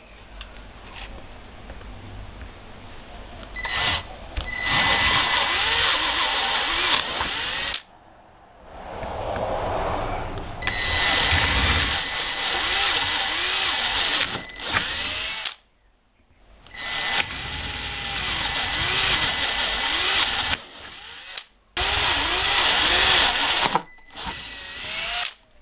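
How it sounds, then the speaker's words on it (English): A power drill bores holes into an N scale model railroad control panel in long whining runs, stopping and starting again between holes, loud and close. "But let's drill a few more holes."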